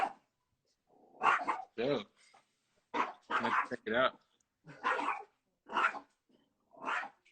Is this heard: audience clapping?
no